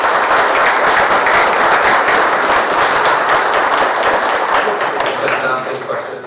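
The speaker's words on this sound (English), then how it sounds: "Please give a round of applause." A conference audience at a summit on cross-sector partnerships claps in loud, dense applause that holds steady for several seconds, then gradually fades.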